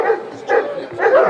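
Newfoundland dogs at a water rescue demonstration give three close, loud barks in quick succession, with whiny yipping tones and no voices over them.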